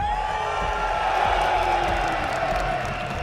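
An esports arena crowd at a Counter-Strike semifinal cheers for FaZe Clan, a sustained roar of whoops and shouts with a steady tone running beneath, loud and continuous throughout.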